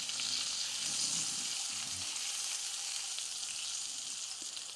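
Sous vide chicken sears in butter in a hot pan, giving a steady, close sizzle that fades slightly toward the end, with no talking.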